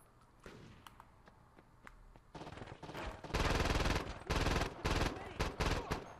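Automatic gunfire in the video game Saints Row 2: quiet scattered shots build into loud, rapid bursts of machine-gun fire with short gaps between volleys.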